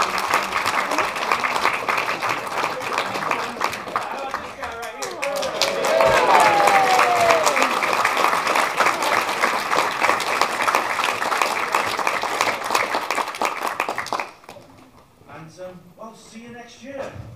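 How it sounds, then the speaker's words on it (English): An audience claps together in a hall at a university exopolitics conference, applause of a large crowd filling the room for about fourteen seconds with whoops and voices rising midway, then stopping abruptly as a voice continues alone. "Give yourself a big round of applause."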